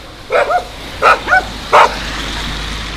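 Three short bursts of small, yappy dog barking close by on a Carpathian mountain trek, spaced about half a second apart over a low background hiss.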